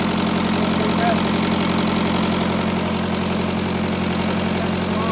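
International Harvester 574 diesel tractor engine idling close by, a steady loud low rumble with an even knocking pulse that keeps up without a break.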